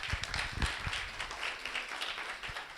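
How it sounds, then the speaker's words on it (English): A small audience at a community meeting on health for older adults claps for a guest, a scattered, moderately quiet patter of hands that fades toward the end. "So could we please give a round of applause to Grant?"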